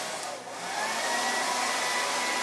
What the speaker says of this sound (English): I'm actually going to style it and dry it.